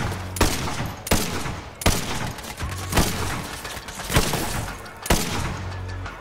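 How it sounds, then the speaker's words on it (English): Gunfire in the video game Borderlands 3, sharp loud shots at regular intervals of about a second over a dense, continuous game soundscape, with no talk. "Now that's precision shooting."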